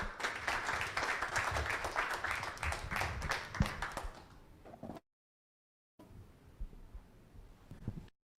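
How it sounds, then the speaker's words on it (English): After a company management presentation on packaging solutions, the audience gives a fairly loud burst of rapid clapping that fades out over several seconds, followed by a gap and faint room noise. "I think you deserve another round of applause"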